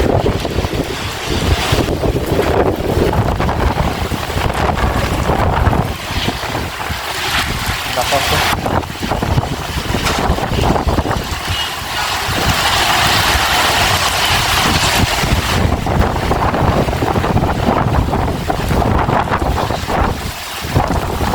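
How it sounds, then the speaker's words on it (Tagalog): Strong, gusting storm wind in Saudi Arabia roars continuously, buffeting the microphone with rushing broadband noise and occasional surges, like a storm blowing outside. "Ang hangin"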